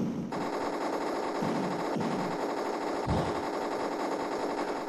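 Rapid automatic gunfire from the Amiga shooter game Rollercoaster Rumbler, a dense, steady stream of electronic shots with a few heavier blasts, loud and continuous throughout with no talking.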